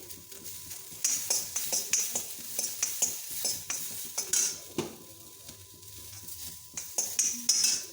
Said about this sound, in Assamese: আদা আৰু ৰচুনখিনি দিলোঁ, অকণমান লৰাই আছোঁ আদা ৰচুনখিনি দি।